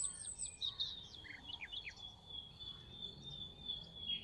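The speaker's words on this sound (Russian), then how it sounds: "раздаются трели птиц" Birds trill and chirp in quick bursts in the evening, faint and somewhat distant, over a soft, steady outdoor hiss.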